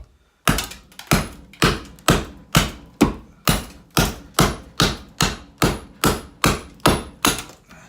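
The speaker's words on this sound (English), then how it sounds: "it's gonna hold an edge by hitting hardwood. See if it can take it, hitting this, chopping with this." A kukri knife chops into hardwood with about fourteen sharp, loud thunks, struck in a steady, even rhythm roughly twice a second, each blow ringing briefly before the next.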